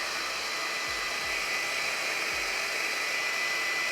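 A GHD 2-in-1 hot air styler blows steadily while drying hair, a loud continuous airy whoosh that runs the full length, with a few soft low thumps near the start and no talking.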